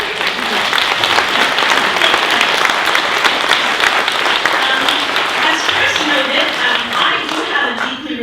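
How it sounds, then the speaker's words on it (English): A crowd applauds loudly at a performing arts hall announcement, with dense sustained clapping throughout and a few voices mixed in beneath it. "Now, yes, I think we should applaud."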